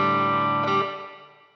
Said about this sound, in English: It's as simple as just going to the reverb button, adding reverb.